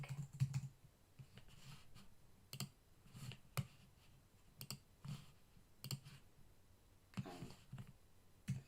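Keys clack in short bursts on a computer keyboard as a file name is typed for a Save As in a card-blank design, the clicks close and crisp with pauses between runs and no talking.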